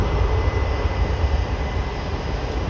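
A steady, loud roar from a jet airliner at Manchester Airport, an Airbus A320neo, fills the whole stretch with a broad, continuous rumble and no voices.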